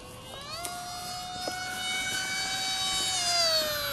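A HobbyKing RadJet RC jet fitted with performance mods flying after a hand launch, its electric ducted fan giving a steady high whine that rises gradually in pitch, with a few faint clicks.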